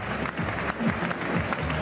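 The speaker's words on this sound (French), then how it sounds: "Les applaudissements du public turinois." Crowd applause at a boxing match in Turin after an eight-round bout, a steady wash of clapping from a large arena audience heard at moderate distance, with faint voices mixed underneath.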